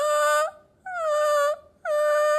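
A person's voice imitates a crying dog with three long, high, wavering wails separated by short pauses, loud and close.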